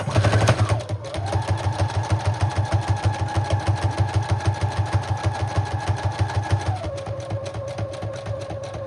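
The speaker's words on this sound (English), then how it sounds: "I am going to go with a zigzag stitch and go around every little piece." A sewing machine runs a zigzag stitch steadily with a fast, even mechanical chatter and hum, stitching continuously up close with no talking.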